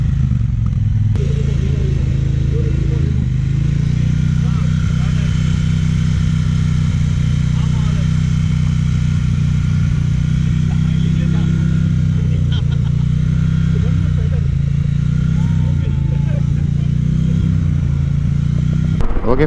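Triumph Speedmaster motorcycle engine idles after being started, following a breakdown. The rumble is steady, close and loud, with some clatter mixed in, and it runs continuously for the whole stretch.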